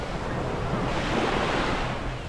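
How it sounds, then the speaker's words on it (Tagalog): Surf rolling up onto a beach at Laiya, Batangas, with water washing back out; a steady, loud roar of breaking waves fills the whole stretch, with light wind buffeting the microphone and no voices. "yung alon eh, pag sumasampa rito sa Davao, yung balik ng tubig hindi siya lumalabo"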